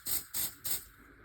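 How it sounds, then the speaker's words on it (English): Three quick bursts of aerosol spray hiss out in an even rhythm, close and fairly loud, as the can is aimed at smoke alarms to test them, then a faint quiet hiss remains. "I gave a quick spray just to test both the alarms"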